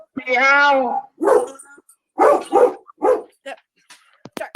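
At a Wolfeboro Board of Selectmen meeting in December 2020, a voice sings a drawn-out line followed by a string of short, punchy bark-like woofs, loud and close in an otherwise quiet room.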